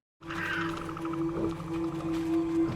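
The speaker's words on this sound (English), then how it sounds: "Is it a wolf? Yeah, it's a wolf." A wolf in a Game of Thrones episode gives a long, sustained tonal howl that holds steady and near for a few seconds, layered over a low rumbling score, with no talking.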